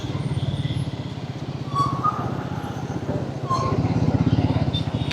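A Triumph Scrambler 400XC motorcycle engine idles with a rapid, even single-cylinder thump, close and moderately loud, rising slightly partway through, while someone talks over it.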